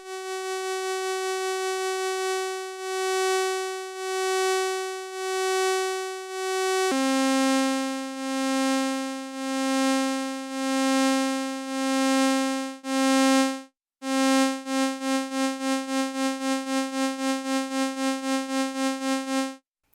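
A buzzy ARP Odyssey analog synth tone holds steady, then drops in pitch and pulses in rapid, evenly repeated LFO-triggered envelopes, the rhythm quickening toward the end.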